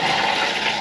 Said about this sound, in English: Oh, it's got a nice flush to it.